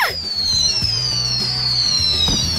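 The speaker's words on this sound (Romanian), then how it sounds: "Focuri de artificii adevărate!" Fireworks going off, a loud crackling burst with a whistling rising-falling tone streaking through, followed by rumbling booms, close and dominant.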